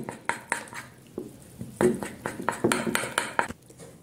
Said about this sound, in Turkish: Güzelce karıştıralım.